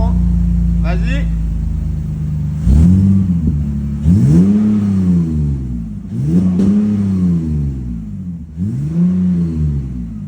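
A BMW E30 drift car with a shifter revs its engine in repeated bursts, about four loud, close blips that rise and fall, over a steady idle. People talk at the start.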